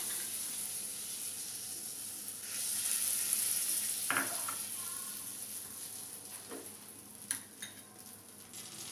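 Butter cooking in a pan for white sauce gives a faint, steady low sizzle throughout, with a few soft clinks and small scraping touches, no talking.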